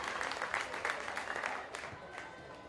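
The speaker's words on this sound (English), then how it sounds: "The cheers of the Gap crowd." Supporters of The Gap FC cheer and clap at a women's football grand final, a broad wash of distant crowd applause with a commentator's voice faintly over it.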